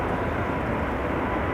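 An 11-year-old KLM Boeing 777-300 jet departing Amsterdam Schiphol for Lima, heard as a loud, steady, close broadband roar of jet engines throughout, with no voices.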